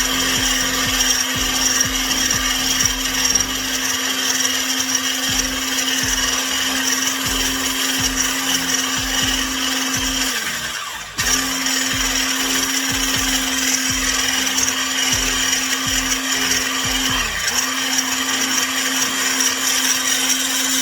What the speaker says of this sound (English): we're going to whisk them until it reaches its peak.